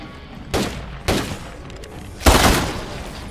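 Three heavy gunshots ring out in a video game, spaced unevenly, each a loud broad blast with a short decaying tail, and the last is the strongest.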